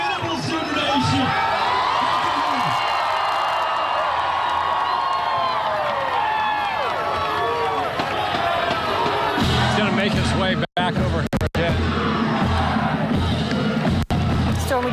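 Outdoor crowd of Oklahoma Sooners fans cheering and whooping continuously at a rally greeting the new coach, loud and dense, with wind noise and a voice talking over it near the end.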